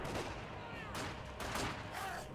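Squad gunfire pouring from building windows in the Company of Heroes 2 video game, a few muffled bursts of shooting at moderate distance under a voice.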